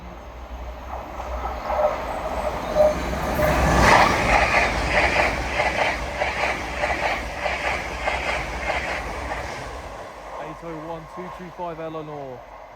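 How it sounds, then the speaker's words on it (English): An LNER Azuma train passing through Alexandra Palace station on the East Coast Main Line swells to a loud rushing peak, then rumbles with a rhythmic clatter of wheels before fading, and a voice speaks near the end. "passing through now is an LNER Azuma en route from London King's Cross to Leeds"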